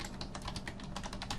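Fingers type quickly on a computer keyboard, a close run of light, irregular key clicks with no voices.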